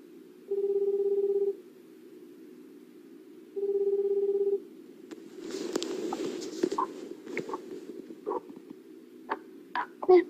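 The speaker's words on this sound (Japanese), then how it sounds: "お電話をおかけしたいと思います" Two long electronic ringback tones sound on an outgoing phone call, evenly spaced and steady, followed by line noise and faint clicks.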